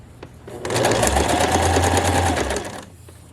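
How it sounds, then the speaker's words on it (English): A sewing machine stitches a shirt seam in one loud, steady whirring run that rises quickly, holds for about two seconds and then stops, close by with no talking. "Always make sure there's no ripples and everything's flat before you sew over it."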